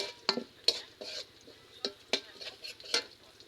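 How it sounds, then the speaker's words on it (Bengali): Onions and garlic frying in a pan, soft and quiet, with a low sizzle under a handful of sharp spatula scrapes and taps spaced about half a second apart. "আমার কিন্তু পেঁয়াজ রসুনগুলো ভেজে নিচ্ছি"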